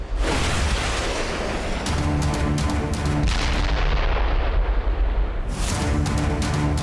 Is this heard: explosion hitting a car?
yes